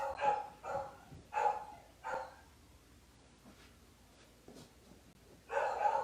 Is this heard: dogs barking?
yes